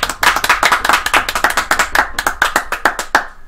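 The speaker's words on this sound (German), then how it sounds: "Ein Applaus für das Publikum." A small studio audience at a talk show claps loudly and close, a quick run of distinct, crisp handclaps in an uneven rhythm that continues for several seconds without speech.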